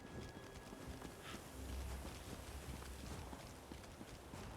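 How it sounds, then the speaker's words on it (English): Faint, steady clip-clop of a horse's hooves in an Elder Scrolls video game, a regular trotting rhythm under low game ambience and soft background music. "that is a really cool horse that character's got"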